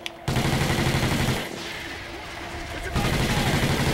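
Heavy sustained automatic gunfire in Call of Duty Ghosts Extinction, loud and dense, dipping briefly midway before resuming at full intensity.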